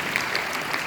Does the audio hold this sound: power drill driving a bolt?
no